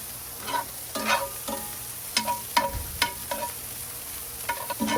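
Bacon and wagyu burgers frying on a grill, a soft continuous sizzle broken by repeated scraping and tapping of a utensil in uneven bursts, with no talking.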